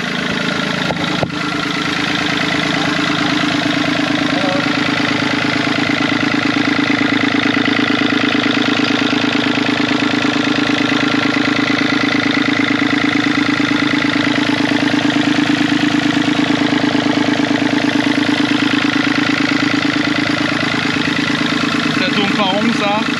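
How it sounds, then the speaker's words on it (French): A boat engine running slowly on a trip around Koh Lanta, Thailand, gives a steady, loud, low idling drone that continues for the whole stretch without a break. "le moteur est agréable hein, quand il va pas vite"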